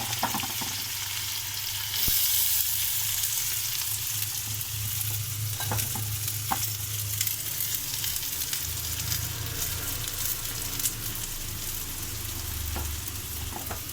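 Green chillies and onion sizzle and fry steadily in a hot pan with occasional stirring scrapes, a continuous close hiss throughout.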